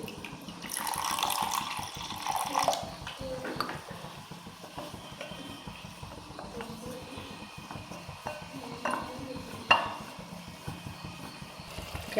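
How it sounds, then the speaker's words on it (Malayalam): Water is poured into thick coconut milk for a chicken stew, with a soft splashing pour early on and light clinks from the pot and trickles continuing after it. "ഇതിലേക്ക് നമുക്ക് കുറച്ച് വെള്ളം ഒന്ന് ചേർത്തിട്ട്"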